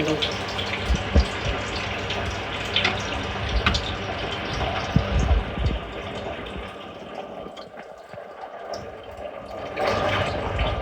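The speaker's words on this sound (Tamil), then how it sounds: "சேர்ந்து கொஞ்சம் தண்ணி" Water splashes and trickles into a pot of turkey biryani amid clattering kitchen noises, with a voice talking intermittently nearby.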